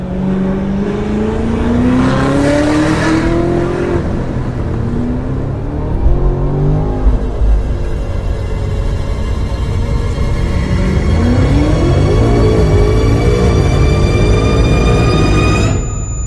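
A BMW M5 F90 CS tuned with big turbos accelerates hard, engine note climbing steadily through gears with rising whine, loud and close throughout, no talking.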